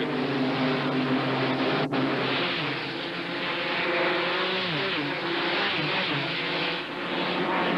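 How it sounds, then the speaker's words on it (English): A 1991 Busch Series stock car roars past close to a wall-mounted speed camera, a loud continuous engine drone with a rising and falling pitch as it goes by, other cars audible around it. "Whoa, Michael can just about clean the lens on that camera when he comes by"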